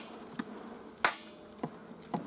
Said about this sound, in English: Shake all the bees off in the hive.